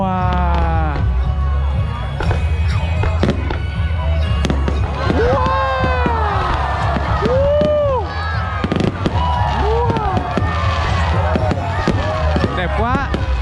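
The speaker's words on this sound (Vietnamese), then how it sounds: "Pháo nổ đẹp không?" A fireworks display bursting over a town square in Son La, Vietnam, with repeated pops, crackles and whistling rising trails over a constant crowd din, while excited voices talk and exclaim close by.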